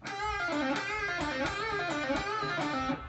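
An electric guitar plays a quick lead phrase, bent notes sliding up and back with pull-offs, steady and close, no voices.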